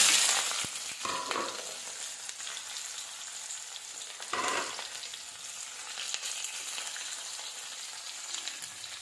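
Onions frying in hot oil with panch phoron, a continuous close sizzle that flares loudly as they hit the pan and then settles into a steady crackle with occasional stirring.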